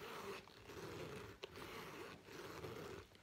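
Zipper on a Coach Tabby shoulder bag being pulled open and closed, a soft, faint rasping slide with a couple of short pauses, close by and heard alone.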